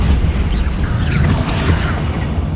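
Bombarda spell blast in the video game Hogwarts Legacy, heard as a dense, sustained low rumbling roar with crackling debris, loud and steady throughout, with no clear separate bursts.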